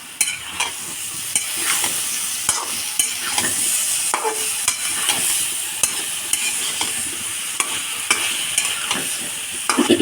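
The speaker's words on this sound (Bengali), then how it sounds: "আমরা এটাকে আবার নেড়ে চেড়ে মশলা দিয়ে ভালো করে কষিয়ে নেব সবজিটাকে" Vegetables, ridge gourd and potato cooked with dried fish, are stirred with spices in a hot pan. A continuous sizzle runs under repeated scraping strokes of the spoon, close and fairly loud, and no one speaks.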